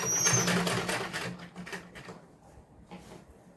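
A sewing machine runs in short rapid bursts while stitching gathered pleats on a salwar, a chattering mechanical rattle that is loudest at the start and then fades into quieter intermittent stitching.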